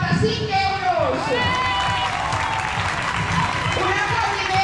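A crowd at an outdoor charity walk and race against cancer applauds steadily and loudly, with scattered cheers and voices mixed into the continuous clapping.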